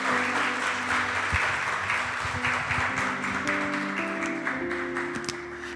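A church congregation claps loudly and steadily during a Spanish-language worship service, a dense wash of applause that swells and then gradually tapers near the end, with no talking over it.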